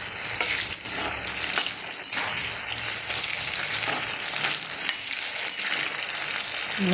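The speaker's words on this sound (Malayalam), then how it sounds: "നമുക്കിത് വറുത്ത് കോരിയെടുക്കാം" Mango pieces deep-frying in sesame oil give a dense, loud, continuous sizzle and crackle, with stirring scrapes heard through the bubbling and no talking.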